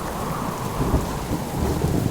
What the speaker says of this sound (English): Oh, it's a miserable, stormy day.